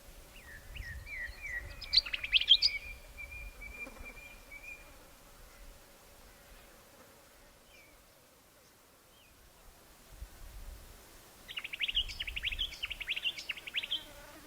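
A wild scarlet-chested parrot in outback South Australia gives bursts of high chirping calls, one cluster early and another near the end, over low buzzing insects and a faint steady hum.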